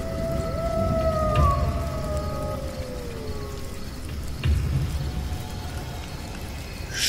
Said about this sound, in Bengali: আর ঠিক তখনই মনে হলো যেন পেছন থেকে শিয়ালের ডাক আসছে